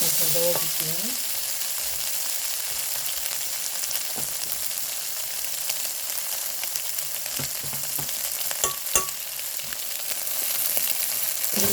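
Tofu fried rice stir-fries in a pan, a steady close sizzle with occasional scrapes and taps of a utensil stirring throughout.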